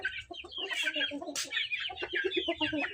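Rooster and hen clucking close by in a village setting, a steady run of short clucks and calls with a couple of brief sharper squawks, the birds alone without talk.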